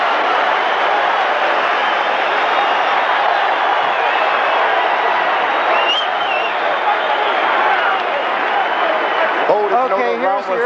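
A boxing arena crowd roars and cheers steadily as supporters rise from their seats at a heavyweight title fight, a dense sustained wall of noise with a brief whistle and a commentator's voice emerging near the end.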